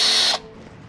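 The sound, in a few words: cordless drill spinning WeedSpinner WS-1 weed removal tool in gravel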